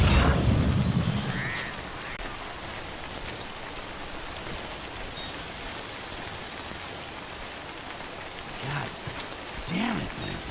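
Steady rainfall in a futuristic video game, a continuous hiss of drops that stays even throughout, with a louder burst at the start and a few brief chirping blips near the end.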